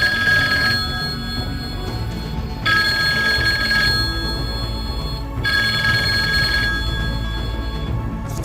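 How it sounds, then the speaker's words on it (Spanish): A telephone bell rings in long bursts, three rings separated by short pauses, loud and close over a steady low background rumble. "El teléfono no ha dejado de sonar"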